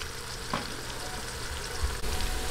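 Chopped onions sauté steadily in a pan for a Filipino bangus sardinas dish, a soft, continuous low sizzle with no voices.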